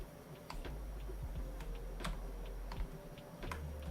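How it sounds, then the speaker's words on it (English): Someone types on a computer keyboard, producing soft, irregular clicking keystrokes close by at a low level, with no one talking. "Sorry, I'm typing something."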